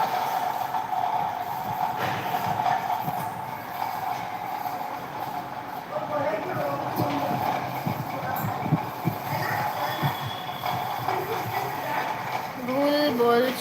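A train in motion, heard from inside a carriage: a steady low rumble and rattle runs the whole time, with faint squeaks and clicks, while people talk over it.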